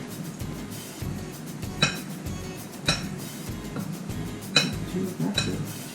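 Breaded oysters being stirred in a bowl, with repeated clinks and scrapes of a utensil against the dish at an uneven rhythm, fairly soft and close, with faint voices in the background.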